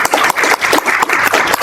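Audience applause welcoming a guest speaker at a lecture event, steady dense clapping from a room full of people, loud and continuous with slight rhythmic swells.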